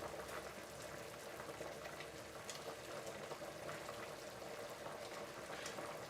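Continuous bubbling and rolling of boiling pasta water in a pot, dense crackly fizz at a steady low level with no voices.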